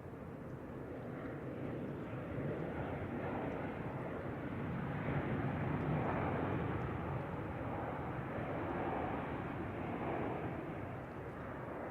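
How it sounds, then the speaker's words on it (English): A passenger plane landing at San Francisco Airport, heard from a distance as a low, steady rumbling engine roar that swells gently and fades, with no talking. "Oh, look at that butter landing"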